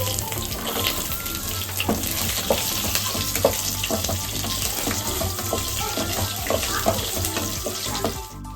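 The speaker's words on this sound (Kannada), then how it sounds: "ಚಕ್ಕೆ ಲವಂಗ ಸೋಂಪುಗಳನ್ನ ಹಾಕೊಂಡಿದ್ದಾಳೆ ಎಣ್ಣೆಗೆ ಫ್ರೈ ಮಾಡ್ತಾ ಇದ್ದಾಳೆ" Cinnamon, cloves and fennel seeds frying in hot oil in a home kitchen, a steady close sizzle with stirring scrapes and clinks running throughout, and a low hum underneath.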